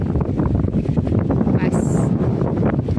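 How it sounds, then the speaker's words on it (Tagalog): Strong wind gusting across the microphone on the Pineapple Dam trail at Shing Mun Reservoir, a loud, continuous roar with buffeting throughout, plus a brief higher whistle partway through. "Ang lakas ng hangin."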